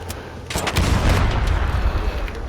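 A shotgun is fired in the video game ARC Raiders. One heavy blast is followed by a dense, rumbling roar that stays loud to the end of the clip.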